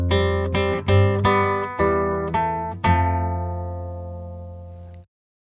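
Fingerstyle acoustic guitar picks out a few chord tones from a song, each pluck ringing and overlapping, then a last chord left to decay into silence; close and clear, with no voices.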